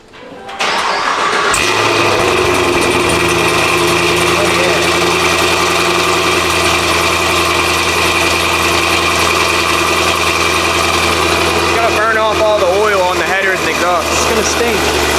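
A Cadillac CT5-V with new headers, heat exchanger and front tank fires up with a loud crank and catch, then settles into a deep, rumbling idle, with people talking over it near the end.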